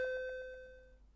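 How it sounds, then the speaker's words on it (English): A doorbell chimes once in a home, a bright ringing tone with a faint repeated pulse that slowly decays over about a second, with no voices. "The doorbell rings."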